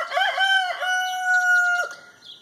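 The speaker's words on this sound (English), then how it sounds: "Chicken, go away." A chicken near a vehicle being worked on for brake repairs gives a loud, close crow with a long drawn-out middle, then trails off into a soft cluck at the end.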